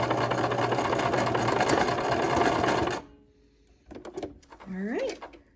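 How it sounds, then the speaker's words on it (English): A sewing machine runs a simple straight stitch with back stitching, a steady close mechanical whir for about three seconds, then stops to near quiet with a few soft handling knocks and a brief voice. "is just a simple straight stitch to secure this"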